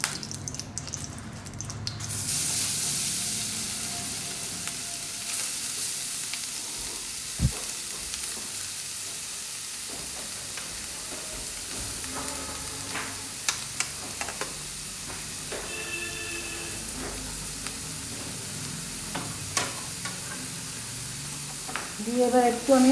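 Grated carrot frying in oil with two bay leaves and four or five small cardamoms for carrot halwa, a loud steady sizzle with irregular scraping stirs and spatters running throughout, and no voice heard.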